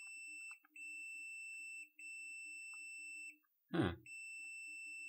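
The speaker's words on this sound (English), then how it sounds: "So if I touch this here and I touch this here, I get a beep." Electronic beep from a continuity test on an opened Skyone Alpha 400 netbook, a steady high tone sounding in several long stretches broken by short gaps, plus a brief rustling thump, with no talk.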